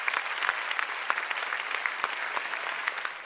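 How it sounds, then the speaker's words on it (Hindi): An audience at a Hindi poetry event claps steadily to welcome a poet onto the stage, a dense, continuous applause with scattered sharper claps throughout. "जोरदार तालियों से स्वागत करती हूं।"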